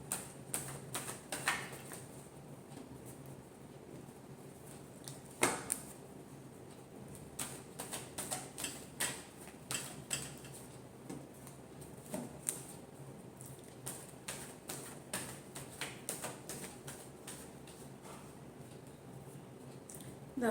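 Tarot cards are shuffled by hand in a quiet room, a long run of soft, rapid riffling clicks and flutters with a few sharper snaps, faint and close, with no talking.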